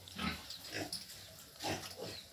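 Pietrain piglets in a farrowing crate on a pig farm grunt and squeal in several short, soft bursts, close by, with no talking.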